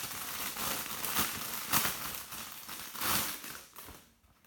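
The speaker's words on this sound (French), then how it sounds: "Allez, on va déballer." Packaging of a Crash Bandicoot and Spyro big box is being unwrapped, giving a steady close crinkling and rustling with a few sharper crackles before it fades to quiet.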